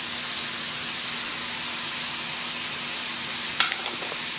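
Potatoes fry in oil for bhinda nu saak, giving off a steady, bright sizzle throughout, with a brief stir or utensil scrape near the end.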